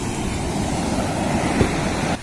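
Steady wash of ocean surf rolling onto Sanguthurai Beach near Nagercoil, a constant broad rush with a faint bump near the end, no voices.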